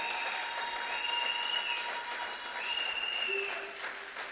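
A church congregation applauds steadily as a continuous wash of clapping, with high whistles or cries rising above it at moments, moderately distant.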